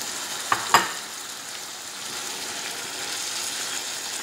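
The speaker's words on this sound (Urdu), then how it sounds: "اب اسے پکائیں گے جب تک یہ ٹماٹر اچھے طریقے سے اس میں مکس ہو جاتے ہیں" Tomatoes cook with aloo keema and peas in a pan, a soft steady frying hiss following a couple of sharp knocks from a spoon against the pan, close with no talking.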